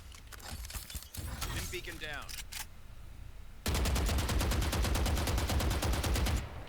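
A Vandal rifle fires in a video game while standing unscoped: a long, fast, evenly spaced automatic burst of loud, close, sharp shots. Before it come a few scattered shots and mechanical clicks, with speech over the opening seconds.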